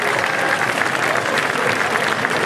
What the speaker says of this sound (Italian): Un applauso fortissimo.